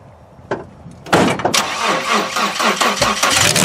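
A car engine cranking and catching, then running at a loud, close idle with some revving, preceded by a brief click or door sound.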